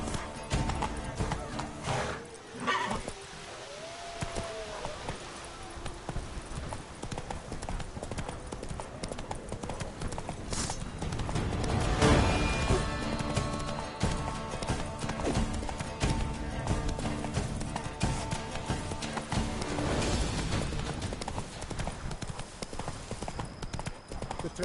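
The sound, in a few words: horse hooves clip-clopping while riding, Witcher 3 video game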